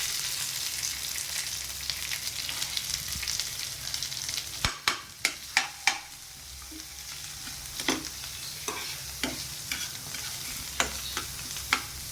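Onion fries and sizzles in a pan with curry leaves for egg bhurji, a steady hiss broken by repeated sharp clanks of a spatula stirring against the pan.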